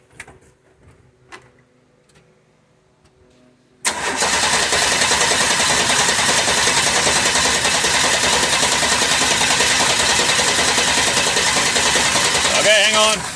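A cold engine with its choke pulled is cranked after several quiet clicks and knocks, catches abruptly and then runs at a loud, steady, slightly rough idle close by.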